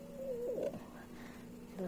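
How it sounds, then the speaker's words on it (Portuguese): A cat upstairs gives a single faint, wavering meow, heard from a distance against a quiet indoor hum. "Se você ouvir um barulho, é o gato lá de cima."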